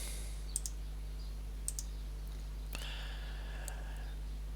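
A few sharp computer mouse clicks, spaced apart and quiet, over a faint steady hum while browsing a DNA testing results site.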